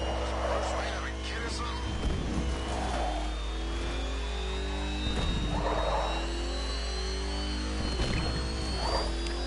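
The Batmobile in Batman: Arkham Knight drives with a steady, loud engine drone and recurring revving surges. A person talks over it throughout.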